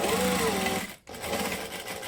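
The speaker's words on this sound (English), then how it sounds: "I'm going to line the pocket up on that line that I just drew and stitch 1/8 of an inch with my joining stitch" A sewing machine stitches a pocket with a joining stitch, running in a steady close whir that stops briefly about halfway and then restarts, without speech.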